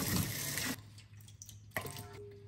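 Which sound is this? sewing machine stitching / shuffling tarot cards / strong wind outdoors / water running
water running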